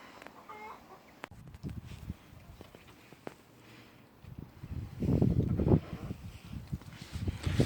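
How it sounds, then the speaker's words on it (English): A tame pet hen on a garden allotment clucks in short, soft bursts, growing louder and busier toward the end amid light outdoor wind and rustling. "That was Ty's chicken, my grandson's, and she's come to live here."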